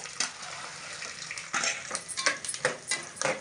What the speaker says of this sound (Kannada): ಕೊಬ್ಬರಿ ಮೆಣಸಿನ್ಕಾಯಿ ಹುರ್ಗಳ್ಳೆ ಎಲ್ಲ ಒಂದೇ ಸತಿ ಹಾಕೊಂಡು ಫ್ರೈ ಮಾಡ್ಕೊಳ್ಳೋದು